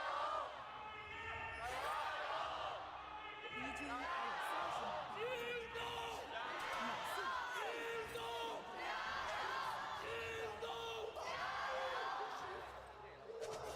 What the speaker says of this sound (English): You can hear the home crowd of Beijing cheering on JD Gaming here a little bit